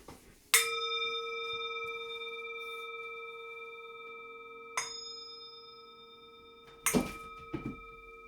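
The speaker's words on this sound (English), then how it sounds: "I also want to ding my bell" A small bell is struck once and rings with a long, clear decaying tone, is tapped again more lightly, and then rattles and clatters briefly near the end, close and fairly quiet in a still room.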